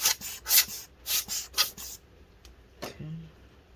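Cloth rubbing and wiping across a Dell XPS 15 9500 laptop being reassembled, several close, brisk back-and-forth strokes in bursts, then quieter scattered handling sounds.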